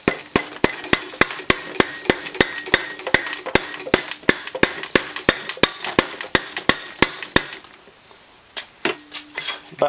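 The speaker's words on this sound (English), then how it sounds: "just tapping on them with a rubber hammer" Rubber hammer tapping shafts into bearings during assembly of a Honda Fourtrax 300 ATV engine: a quick steady run of sharp knocks, about three per second, close and loud, then a short pause and a few more taps.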